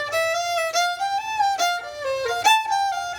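A solo fiddle plays the closing section of Beaumont Rag, bowed in a Georgia Shuffle pattern: bright, quick, lilting notes with a few sharp bow accents, close and clear with no talking.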